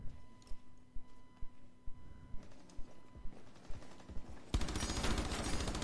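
Gunfire in the video game Rainbow Six Siege comes as a rhythmic string of single shots at about two per second, then breaks into a dense, continuous automatic spray that runs to the end.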